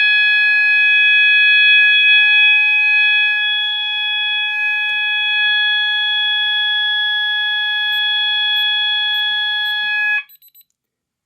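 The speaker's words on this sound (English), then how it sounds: "As you can see, that is an alarm." A loud, piercing security system alarm siren blares continuously for about ten seconds, then cuts off with a few short chirps.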